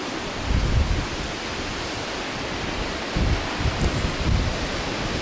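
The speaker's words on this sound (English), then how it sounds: "the wind's just really picked up again" Strong wind buffets the microphone outdoors on a walking trail near a cave in Northumberland, a steady broadband roar with heavier low gusts swelling in several bursts, no voices.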